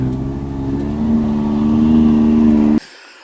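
A vehicle engine towing an overland trailer across a rocky trail hums at a steady, close, loud mid-pitched drone that swells slightly, then cuts off abruptly near the end.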